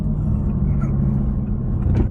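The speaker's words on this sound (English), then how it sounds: "I think that's the fastest 0 to 60 I've ever done in my life." A 2019 Mercedes-AMG E63S four-door sedan accelerates hard, its engine a loud, steady low rumble that holds throughout with a slight swell near the end.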